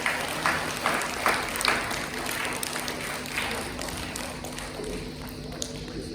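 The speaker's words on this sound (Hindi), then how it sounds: "एक साथ जोरदार तालियों के साथ" Audience applause at a school program welcomes a speaker, scattered clapping that tapers off over several seconds, with some voices and shuffling mixed in.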